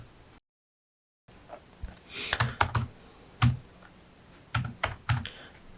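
Someone types on a computer keyboard while entering marks into a Word document, with scattered bursts of keystrokes and short pauses between them, fairly close and clear with no talking.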